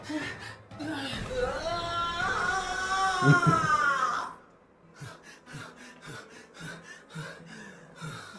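A drawn-out moaning sound gives way to heavy, rhythmic panting breaths, close and fairly loud, repeating quickly.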